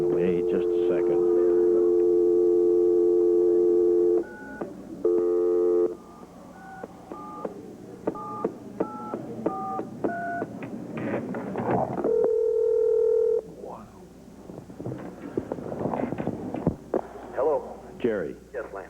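Telephone call tones play loudly and close: a long steady dial tone, then touch-tone dialing beeps in a rapid series, and later a steady busy signal, with talking in between.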